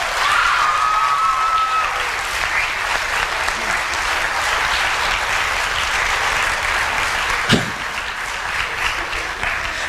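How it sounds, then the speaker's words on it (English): An audience breaks into sustained applause, a thick even clapping that carries on for several seconds, with a faint voice briefly underneath. "how about a round of applause for the Senior Academy members."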